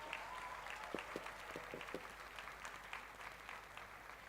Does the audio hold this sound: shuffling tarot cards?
no